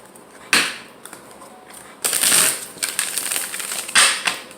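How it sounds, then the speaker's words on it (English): Cards riffle and snap in quick bursts, a brief flutter first, then a longer ruffling shuffle and a final riffle, close and crisp. "We can get a good shuffle in here."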